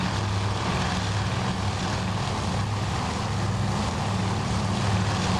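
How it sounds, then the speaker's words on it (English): Massive formations of dive bomber aircraft in a carrier combat video game, giving a dense, steady propeller-engine drone that fills the air without a break. "Look at all those dive bombers up there"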